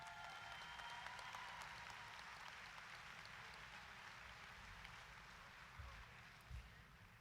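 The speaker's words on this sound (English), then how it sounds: "Yeah, you can clap for that." Graduation audience at a high school commencement ceremony applauding steadily, a dense, even wash of clapping that holds for the whole stretch at moderate distance, with no talking over it.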